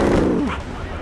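A dense, rumbling blast from something blown up in Far Cry 4 fills the short moment, with a voice talking over the start of it.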